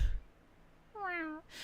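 A single short, clear meow rises and falls in pitch, close and fairly loud, likely voiced by a person imitating a cat rather than an actual cat.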